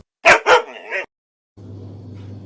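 A dog gives three quick barks up close, then falls silent before a low hum of background noise.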